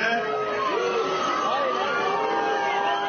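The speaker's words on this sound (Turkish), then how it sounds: "Kalabalıktan yuh sesleri yükselince" A large crowd at a Turkish political gathering jeers and boos with a sustained, dense roar of many voices that holds steady for the whole stretch, with no pauses.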